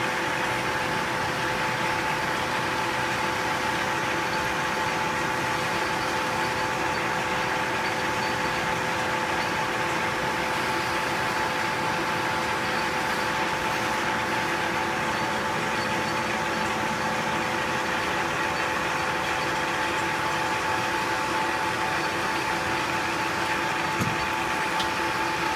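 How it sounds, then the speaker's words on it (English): A lathe thread roller cold-forms threads on raw bar stock, a steady machine drone with a constant tonal hum and even mechanical noise running throughout, no voices. "The thread roller actually deforms the material and creates threads on the raw stock"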